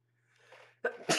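A single sneeze bursts out close to the mic at the end, preceded by a soft indrawn breath, loud and alone with no talk over it.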